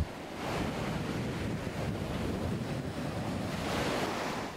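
Ocean waves breaking on the Gulf of Mexico shore near Sabancuy, Campeche, a continuous broadband roar of surf with gusting wind buffeting the microphone, steady and loud throughout with no voices.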